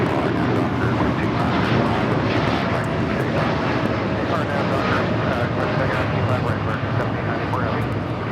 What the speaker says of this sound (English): This is United Airlines 2127 taking off to Newark on the 787-9 Dreamliner